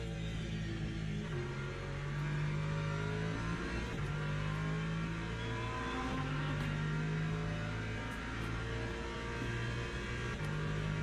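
A race car engine in Le Mans Ultimate holds a steady, droning tone with gentle rises and dips in pitch as the car runs on track, continuous and moderately quiet.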